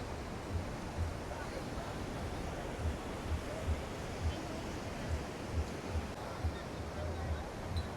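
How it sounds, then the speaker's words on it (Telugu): Big ocean waves at Baga beach roll in as a constant broad wash of surf, with heavy wind buffeting the microphone and soft thuds recurring every half second or so throughout. "అలలు చాలా పెద్దగా వస్తున్నాయి."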